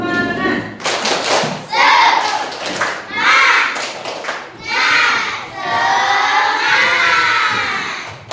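Schoolchildren in a classroom clapping a rhythmic spirit clap together with shouted chants, bursts of group claps and voices rising and falling, loud and close.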